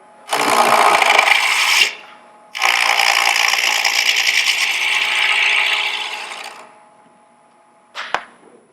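Two long bursts of harsh, scraping woodturning as a lathe tool cuts a cove into spinning wood, with a short gap between, then a brief tap near the end.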